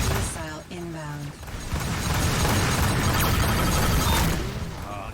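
A missile strike in the space combat game Rebel Galaxy Outlaw produces a sustained, rumbling roar under brief bursts of talk and electronic tones, holding loud for several seconds before tapering off.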